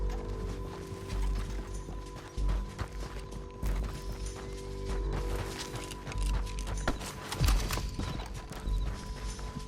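Horse hooves clip-clop steadily in Red Dead Redemption 2, a loud, rhythmic trot of several horses with creaking tack, without talk.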